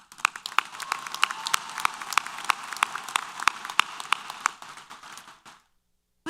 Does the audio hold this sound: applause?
yes